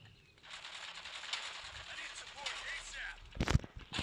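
Rifle gunfire in the video game Counter-Strike: Global Offensive, with several sharp shots near the end layered over a busy game soundscape of chirps and clatter, while a voice speaks quietly.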